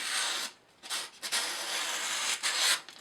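A Chris Reeve Large Sebenza 21 knife with an S35VN steel blade slices paper with its belly in long rasping strokes, a dry scratchy hiss close up, with a few short pauses between cuts.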